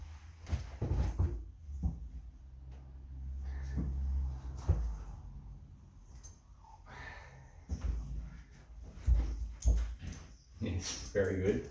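A dog whimpers and snuffles close by during a home mobility exercise session, soft whines and snorts coming in short bursts between a woman's spoken instructions.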